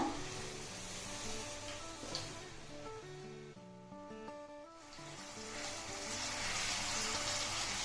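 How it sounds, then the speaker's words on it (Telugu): Amla gooseberries frying in groundnut oil in a shallow pan for pickle, a steady bubbling sizzle that dips briefly midway then swells again, close and continuous with no talking. "ఈ కాయలు ఇట్లా దోరగా వేగాలి"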